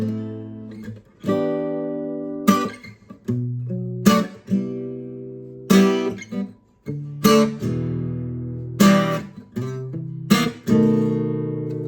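Strummed guitar chords ring out one after another, each left to sustain before the next change, forming a slow, clear progression with no talking.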